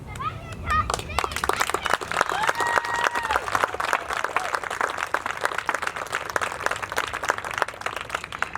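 Outdoors at a park groundbreaking ceremony, a crowd claps and cheers, with a child's high cheer rising above the dense applause and voices chattering in the mix.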